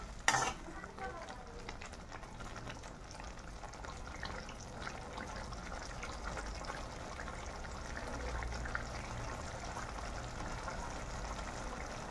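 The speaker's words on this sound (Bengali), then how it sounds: "পেঁয়াজগুলো ফ্রাই হওয়ার পর রসুন, কাঁচা লঙ্কা পেস্ট, সর্ষে পোস্ত পেস্ট আর স্বাদ অনুযায়ী লবণ আর হলুদ দিয়ে কষিয়ে নিচ্ছি" Sliced onions fry in a pan with garlic, green chilli paste, mustard-poppy seed paste, salt and turmeric as they are stirred, giving a steady soft sizzle with occasional scraping, quiet and continuous.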